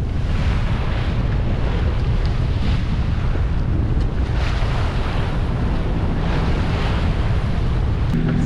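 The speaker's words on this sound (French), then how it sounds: "Là il y a un peu de vent" Strong wind at sea on the Mediterranean roars continuously over a sailboat, mixed with broadband wash of waves and heavy buffeting on the microphone, loud and unbroken with no talking.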